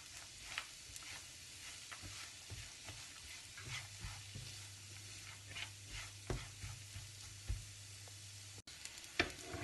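Carrots frying in a pan for carrot delight balls, a continuous soft sizzle broken by regular scraping stirs, with a low steady hum underneath and no voices.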